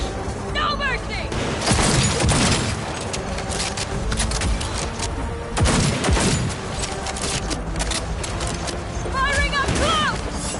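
Rapid close-range gunfire from Cyberpunk 2077, loud dense bursts layered with impacts and booms, with a voice speaking over the shooting and synthesized game sounds.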